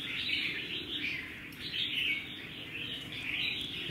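Red-whiskered bulbul songbirds from Laos, four kept birds, give a steady run of bright repeated chirps and whistled phrases, fairly faint and continuous, with no voices.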